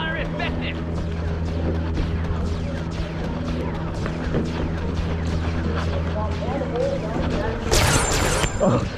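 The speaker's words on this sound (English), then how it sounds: "Ion fire effective." Heavy sci-fi ion cannon fire in a video game, a dense continuous barrage of blasts and crashing impacts on targets with a low droning rumble, ending in a brighter burst of explosions.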